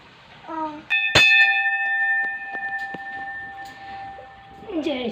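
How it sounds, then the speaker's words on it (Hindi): A temple bell is struck once, ringing out loudly with a long sustained metallic tone that decays over several seconds, while voices talk around it. "ये वाला घंटी बजाओ।"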